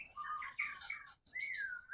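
A young white-rumped shama sings nearby, loud and clear, with a string of bright whistled phrases that breaks off in a short pause before one more sliding whistle.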